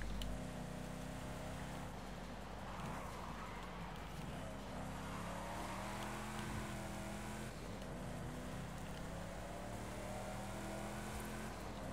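A V8-powered Lotus race car in a racing video game drones along at speed, its engine note rising and falling through gear changes, steady and continuous at low volume.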